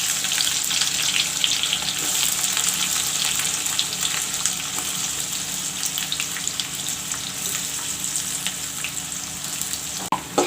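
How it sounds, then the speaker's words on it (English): Onions and cumin seeds (jeera) sizzle steadily in a hot pan while cooking chicken with green masala, a continuous close frying hiss running unbroken and fairly loud throughout, with a brief clatter near the end. "This is the cut up onions which I am going to put in."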